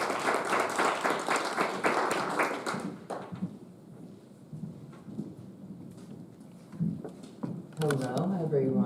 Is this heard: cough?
no